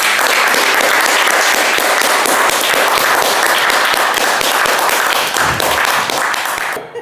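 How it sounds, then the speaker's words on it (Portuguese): A crowd at a poetry gathering gives a round of applause welcoming a poetry troupe: dense, loud, sustained clapping from many hands that holds steady for about seven seconds before cutting off abruptly. "uma salva de palmas para a trupe de palavras vivas"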